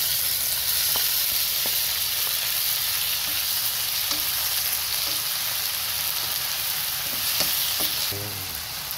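Onion and tomato sauteing in a pan for a Filipino jackfruit and shrimp coconut-milk dish, a steady close sizzle and hiss of frying with occasional light stirring clinks throughout.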